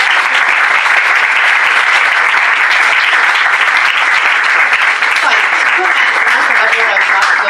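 Audience at an Italian law talk bursts into loud, sustained applause, thick continuous clapping holding steady for several seconds, with some voices faintly mixed in.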